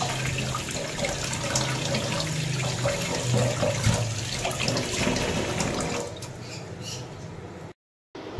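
Tap water runs loud and continuous over fish being washed in a sink, splashing steadily for several seconds before cutting off abruptly near the end.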